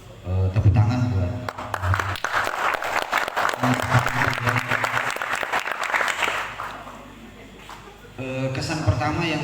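Audience applause at a community gathering marking a first anniversary, rising into a dense burst of clapping that swells, then fades, with a voice heard before and after the clapping.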